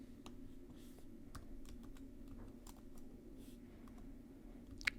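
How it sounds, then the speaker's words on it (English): Soft, quick keystrokes tap on a computer keyboard as an expression is typed into Desmos, irregular clicks over a low steady room hum, fairly faint and with no talk. "let me type in k of x into Desmos"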